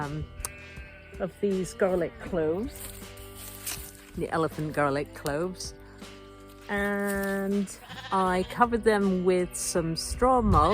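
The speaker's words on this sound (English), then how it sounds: "Sorry about the sheep noise." Sheep bleat repeatedly nearby on a farm in July, loud wavering calls recurring throughout, interleaved with and overlapping someone talking outdoors during a garlic harvest.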